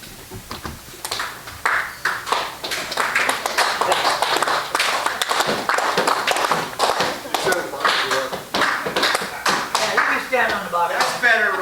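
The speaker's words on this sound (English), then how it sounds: "Thanks for the round of applause" An audience at a Longview Pioneer Lions Club meeting gives a sustained round of applause, dense crisp clapping close by with voices mixed in.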